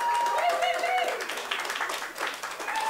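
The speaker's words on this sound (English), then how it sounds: "Give her a cheer, everyone." A crowd applauds and cheers for Kim of Kim's Kitchen, a café in Prestatyn, North Wales, named the winner. Steady clapping runs throughout, with a voice speaking over the applause.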